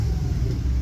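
A Ford 351 Windsor V8 in a classic catering truck idles high on its carburetor, a steady, close, deep rumble that holds even and unbroken throughout.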